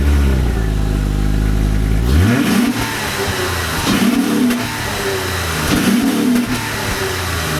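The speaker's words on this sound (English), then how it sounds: "now we'll have a listen to the exhaust" A Honda Accord Hybrid with dual mufflers runs with a steady engine drone, then a series of repeated revs, roughly three rising and falling pulses, heard close with a mechanical rasp.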